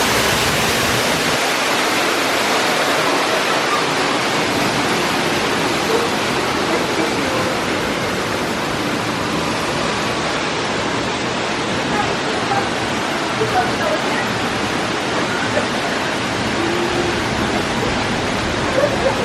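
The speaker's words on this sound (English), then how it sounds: "enjoy the sound of the falling water and the mist that comes off of it" Water pours down an artificial rockwork waterfall on a nature trail at Disney's Animal Kingdom, a loud, close, continuous broadband rush with no breaks.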